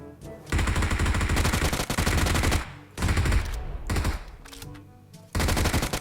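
Rapid bursts of automatic gunfire in the PUBG Mobile battle game, loud and close, coming in several long rattling volleys separated by short pauses.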